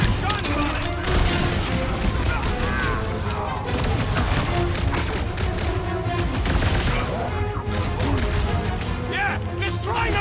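Heavy gunfire and booming blasts from big guns in a Marvel's Guardians of the Galaxy battle, dense and continuous with crashing impacts, layered under game music and voices.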